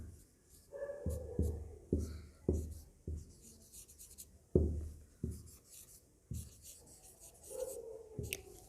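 Writing on a board makes a series of short, faint strokes and scratches in an uneven rhythm, with quiet pauses between them and no talking.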